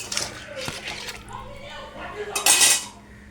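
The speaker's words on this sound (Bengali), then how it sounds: "এবার এটাকে আমরা ভালো করে নাড়বো।" A spoon scrapes and clinks against a pan while stirring Bengali shukto, a bitter mixed-vegetable soup, with a few close metallic knocks and a louder rattle near the end under quiet talk.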